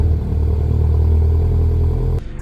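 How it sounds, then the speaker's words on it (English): Aftermarket dual 4.5-inch-tip exhaust on a 2023 Subaru BRZ gives a steady, loud, close-up low rumble under throttle, holding constant for about two seconds before cutting off abruptly. "On throttle, it gives you that nice little rumble that I really love, and it really sounds great."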